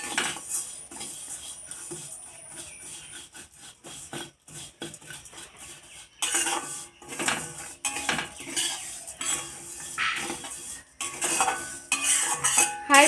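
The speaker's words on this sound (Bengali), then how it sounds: "গ্যাসের ফ্লেমটা আমি একদম লোতে রেখে সেমাইগুলো একটু ভেজে নেব।" Vermicelli (semai) frying in a wok over a low gas flame, with steady stirring, scraping and clinking of a utensil against the pan, louder and busier in the second half.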